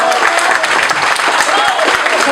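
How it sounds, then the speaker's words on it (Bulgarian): A crowd at a car rally awards ceremony breaks into loud, dense applause for a driver called up to the podium, a continuous burst of clapping with crowd noise mixed in. "с бурни аплодисменти искам да посрещнете Масалито"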